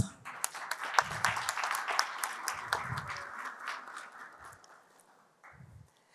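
Audience applause at the 11th EU Human Rights Short Film Competition award ceremony: a burst of clapping that swells, then gradually thins and fades, with a brief renewed patter near the end.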